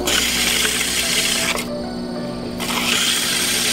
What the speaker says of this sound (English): But I'm gonna trim it off just a little bit.